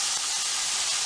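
Chicken goes into a pan of frying vegetables for chicken Manchurian, giving a steady, even sizzle of hot oil, close and moderately loud, with no talk over it.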